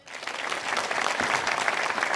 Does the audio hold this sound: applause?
yes